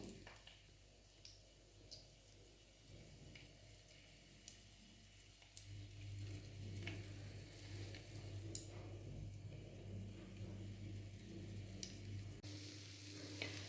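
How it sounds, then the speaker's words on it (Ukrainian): Steady sizzling of battered cauliflower frying in hot oil in a pan, a continuous crackling hiss with small pops, close and fairly quiet, no voices. "ось наша цвітна капуста вже смажиться"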